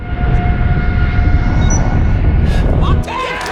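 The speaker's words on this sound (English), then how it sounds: "So Maverick has this cool plane that he flies" Jet plane from the film Top Gun: Maverick flying at speed, a loud, dense engine roar with a faint whine that holds steady, then drops off abruptly near the end as other voices and sounds enter.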